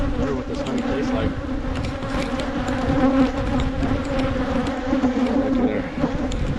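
Honey bees swarm around an opened hive during a fall inspection, a dense, steady, close buzzing drone that fills the whole stretch with wavering intensity.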